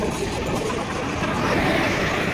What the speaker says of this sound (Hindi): इधर से ट्रेन का हॉर्न आ रहा है, और ट्रेन आ रही है